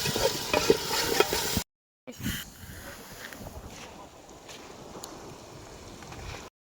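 Tomatoes and onions frying in a pan for a village-style chicken curry, a steady close sizzle with stirring scrapes, broken by a short pause midway before the frying resumes.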